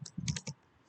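Fast typing on a computer keyboard during coding, a short cluster of quick, close key clicks that stops after half a second and leaves quiet room tone.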